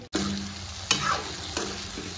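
Pork curry fries in a pan with a continuous close sizzle, broken by a few sharp stirring scrapes and clacks.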